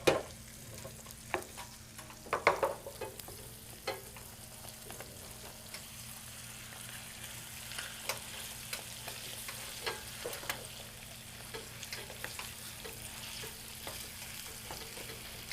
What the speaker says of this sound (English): I'm just gonna mix it in the hot chili butter until all the red parts are gone